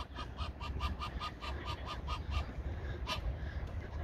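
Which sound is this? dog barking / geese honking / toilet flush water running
geese honking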